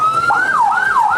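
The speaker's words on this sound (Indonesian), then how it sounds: "Siswa dievakuasi dengan menggunakan ambulan ke Rumah Sakit Cibabat." An ambulance siren wails in a steady rising-and-falling sweep, loud and close, evacuating students from a junior high school in Cisarua, West Java, with no voices over it.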